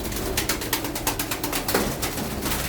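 Pigeons in a loft coo in soft, repeated throaty calls with overlapping birds at close range, alongside a constant background hum.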